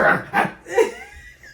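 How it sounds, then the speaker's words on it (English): A dog gives a few short, close barks or yips in quick succession, fading into a brief whine. "Why did you just bark?"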